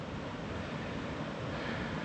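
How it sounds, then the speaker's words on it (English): Water rushes steadily over a horseshoe-shaped dam where Cedar Lake empties into the Petawawa River in Algonquin Park, a loud, continuous broadband roar with no speech. "A lot of water passing over that"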